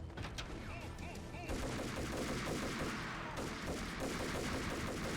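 Sustained gunfire in the Max Payne video game, dense bursts of shots filling the whole stretch at steady, fairly loud level with no break.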